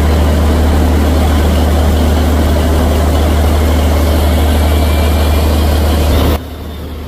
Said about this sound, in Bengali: ডান পাশের ইঞ্জিনকে 975 আরপিএম আর বাম পাশের ইঞ্জিনকে 409 আরপিএমে চালানো হচ্ছে